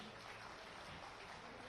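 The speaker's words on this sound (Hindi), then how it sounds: "एक बार जोरदार तालियां।" Faint, distant audience applause at an Uttar Pradesh Foundation Day ceremony honouring an award recipient for carpet making, a steady wash of clapping from a large gathering.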